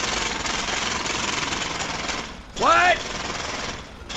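Steady, loud rapid hammering from a jackhammer tearing up a street in the GTA role-play game continues throughout, with a short spoken question cutting in briefly over the noise.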